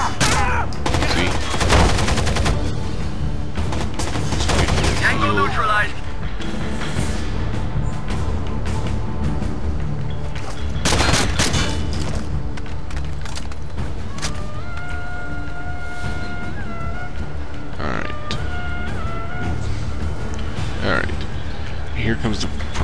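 Dense, rapid automatic gunfire from a rattling minigun in the Rainbow Six Vegas video game fills a city trainyard, with overlapping bursts and booms running continuously beside tonal game sounds.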